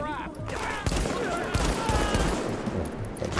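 Rapid rifle gunfire in the video game The Division, a dense crackling burst of shots firing continuously and loudly, with a voice briefly heard at the start.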